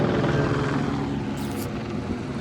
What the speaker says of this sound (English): there's a helicopter flying above